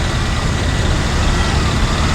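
A van drives along a waterlogged road in the heavy rain, a loud, steady rush of engine and water with a broad noisy wash and no clear voices.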